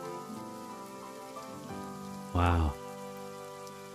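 Steady soft rain falls in a blocky Minecraft-style PVP game world under layered background music, with a brief louder burst near the middle and a short exclamation from a voice.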